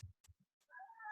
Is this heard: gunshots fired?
no